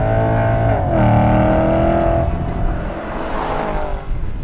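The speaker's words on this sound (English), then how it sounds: "You're in them for a while, and that means you get to hear more V8." A Porsche Panamera V8 revs up loudly under acceleration, its engine note rising steadily and then settling into a long, sustained drone in a tall gear, heard close and continuous with no talking.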